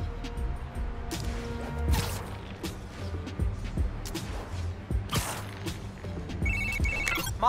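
Phone text message alert chimes in Spider-Man: Miles Morales amid game sounds of impacts and whooshes, a short bright ringing tone rising near the end.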